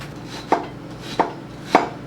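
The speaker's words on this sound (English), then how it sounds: "I'm gonna cut this onion." Knife chopping an onion on a cutting board: three crisp, evenly spaced thuds about two-thirds of a second apart, close and clear with no talk.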